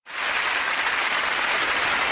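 Steady applause from a crowd starts abruptly and continues evenly with dense clapping and no voices.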